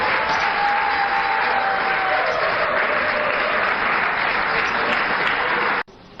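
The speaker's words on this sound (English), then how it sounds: "I think I need a better round of applause." Studio audience on a Ghanaian television talk show breaks into loud, sustained applause that fills nearly the whole stretch, then cuts off abruptly near the end.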